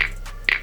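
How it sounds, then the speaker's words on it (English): Two crisp finger snaps from a Scratch sound library effect land about half a second apart, sharp and dry against near silence. "there is something called finger snap"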